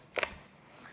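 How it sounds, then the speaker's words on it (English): A knife slices the stalks off a fresh fennel bulb in one quick, close crisp crunch followed by a faint second cut, brief and clear with no talk. "I am going to cut these stalks off."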